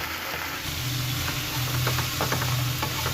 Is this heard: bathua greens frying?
yes